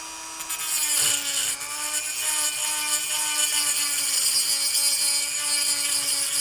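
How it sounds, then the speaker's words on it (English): An abrasive blade cuts slots into a part for a G&G ETU Version 2 airsoft gearbox, giving a steady, loud, high-pitched grinding whine that holds for the whole stretch with a slight waver and no talk. "You want to let the blade do the work. You don't want to push on it too hard."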